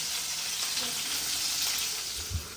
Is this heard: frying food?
yes